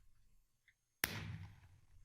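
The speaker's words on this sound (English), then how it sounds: "if you add that to your firework recipe, with, again, you can add as much gunpowder as you want, it will add an explosion effect to the end" A Minecraft firework rocket bursts with a sudden sharp crack, then a fading crackling tail, after a near-silent lead-in.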